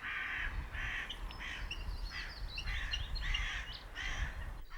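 A crow caws over and over in a steady series of harsh calls while harassing an osprey, heard outdoors against a low wind rumble.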